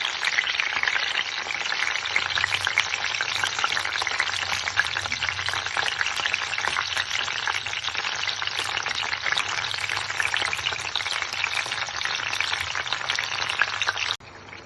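Capsicum peppers sizzle steadily in hot oil in a pan, a loud continuous frying hiss that runs unbroken before cutting off near the end, with no talk.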